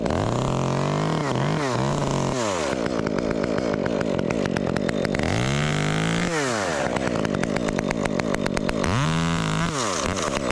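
A Stihl chainsaw runs continuously while cutting a tree, engine revving up and down repeatedly between idle and full throttle, loud and close.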